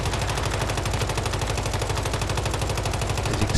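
Rapid automatic gunfire pours out without a break, loud and dense, as a player unloads on a boss in the survival shooter Once Human.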